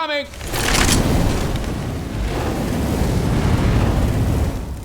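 In the Left 4 Dead 2 video game, a seizing malfunction on a bridge gives a loud, sustained roaring rumble that fills the whole stretch, like a long explosion echoing without letting up.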